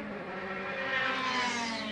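A DTM touring race car at Brands Hatch, 2013 season, screams past at speed during qualifying, its engine a loud, steady high-pitched howl with rising harmonics, close and continuous with no talk over it.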